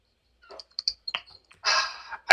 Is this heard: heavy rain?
no